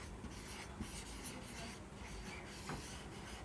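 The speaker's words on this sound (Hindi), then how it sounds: "सबसे पहले लिखेंगे" Faint scratchy strokes of writing on a board in a biology class, short rubbing scrapes in quick succession, quiet and close, with no talking.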